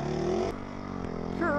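A dirt bike engine revs and bogs while riding through deep snow about two feet deep, a close buzzing drone with a sudden drop and a rising whine near the end.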